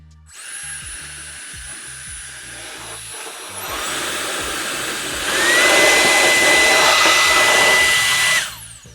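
An electric air duster for a 3D printing and electronics workshop blows hard, with a high whine that climbs in two steps to a loud top speed and then cuts off abruptly. It sounds close, with no talking.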